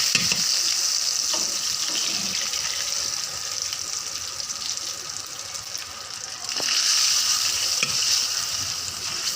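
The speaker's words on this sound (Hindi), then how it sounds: "ये हमने अजवाइन और ज़ीरे का तड़का लगा लिया। अब हम कड़ी में डाल रहे हैं।" Cumin and carom seed tempering sizzles and crackles steadily in hot oil as it is poured into a pot of kadhi, a continuous close frying hiss that swells again near the end, with no one speaking.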